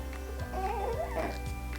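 A puppy gives a short, high, wavering whimper and a few soft yips indoors, fairly close, over a steady background hum.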